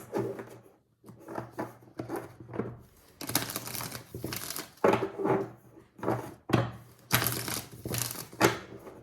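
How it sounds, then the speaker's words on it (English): Oracle cards being shuffled by hand for a reading, with repeated dry papery riffles and soft slaps in uneven bursts, fairly close and alone with no talk. "We'll do a Queen of the Moon Oracle as well. Shuffling for Cancer, please."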